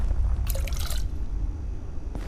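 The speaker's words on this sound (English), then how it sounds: "Pour water bottle into." A water bottle pours onto tomato plants in the survival game Abiotic Factor, making a short half-second splash over a steady low hum, followed by a faint second splash at the end.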